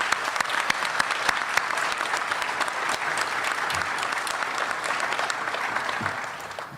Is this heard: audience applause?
yes